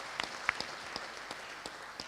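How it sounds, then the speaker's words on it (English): A conference audience at a leadership summit applauds: faint, distant, scattered hand claps ripple through a quiet hall. "Can you give a big hand of applause to Mikono speakers?"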